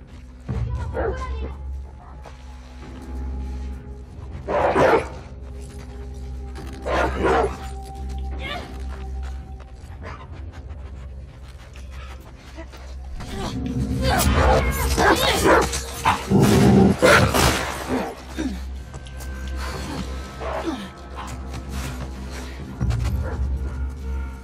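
A dog in The Last of Us Part 2 barks, yips and whimpers in bursts throughout, mixed with game action and a loud struggle in the middle, while someone talks over it.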